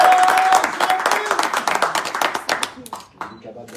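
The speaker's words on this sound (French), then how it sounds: "Sous vos applaudissements" Audience applause at a press conference in Morocco, a dense burst of clapping that starts loud and thins out into scattered claps as it fades.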